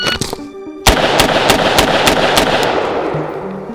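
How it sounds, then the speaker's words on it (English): A select-fire 10.5-inch MK18 rifle on full auto fires a sharp burst of six rounds at an outdoor range, loud and close, with brief ringing echo after the string. "it's very difficult when you're doing longer strings of fire to know what how many rounds you're putting down range with full auto"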